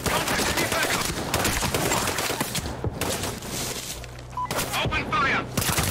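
Rapid, dense gunfire rattles continuously in a Sniper Ghost Warrior 3 firefight, loud bursts overlapping with shouted voices throughout.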